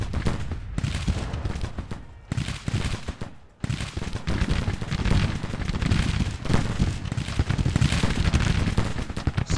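Civil War battle gunfire in the Grand Tactician strategy game, dense rolling volleys of musketry and crackling shots with deep booms, continuous and loud with no pauses.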